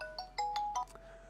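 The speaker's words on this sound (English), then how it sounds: "Here's one ringing." A telephone rings on a livestreamed support-line sales show, a short electronic ringtone with several quick tonal bursts, close and clear, with no talk over it.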